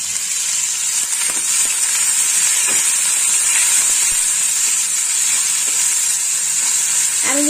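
Poppy seed paste sizzles loudly and steadily in a hot pan as water is added, with a continuous bright hiss and scattered crackles throughout, a brief scrape near the end.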